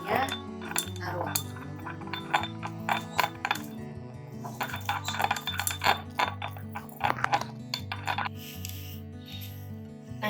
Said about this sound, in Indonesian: Aduk seperti biasa saja sampai larutannya semuanya larut.